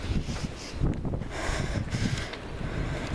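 Strong, violent wind gusts in Charente during an orange weather alert, buffeting the microphone in rough surges that swell and ease without pause.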